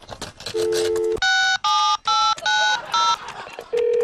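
Touch-tone telephone dialing on a phone call placed during a TV talk show: a rapid series of distinct, loud beeping keypad tones, each short and evenly spaced, following a brief tone and some light noise.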